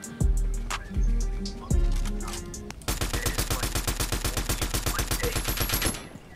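Rapid automatic gunfire in the video game Fortnite, a few heavy single shots first, then a sustained fast burst of evenly spaced shots lasting several seconds, loud and close.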